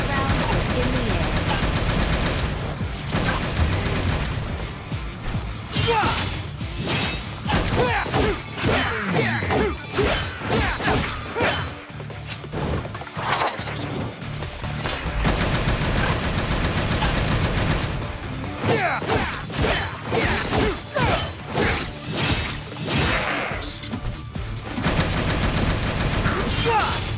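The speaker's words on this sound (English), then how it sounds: "You can click the button to shoot your enemies both on the ground or in the air." Handgun fire from the Devil May Cry Mobile action game, dense and continuous rapid shots mixed with whooshes and impact crashes, loud and sustained over nearly half a minute with brief lulls, no talk over it.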